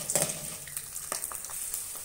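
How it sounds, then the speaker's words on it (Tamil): Garlic and lentils sizzle and crackle steadily in a hot pan, with bright spitting pops scattered throughout. "இப்போ ஸ்டவ்வை கொஞ்சம் கூட்டி வச்சுட்டு இதையும் சேர்த்து வதக்கி விடலாம்"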